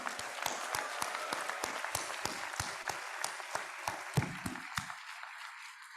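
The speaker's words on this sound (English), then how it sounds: "So a big round of applause for our Honorable Founder President." Audience at the Sangathan 2022 inaugural ceremony at Amity University, Noida, claps for the Honorable Founder President, a steady crowd applause with distinct sharp claps that fades out near the end.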